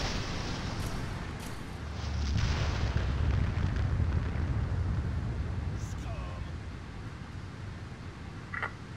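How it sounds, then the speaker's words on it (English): A heavy explosion in the Red Faction video game blows out a docking bay door, building into a broad, roaring blast that swells and then slowly fades into a sustained rumble. "That explosion blew out the docking bay door."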